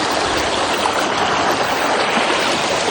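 A river flows in a steady, dense rush of water, loud and close, with no voices.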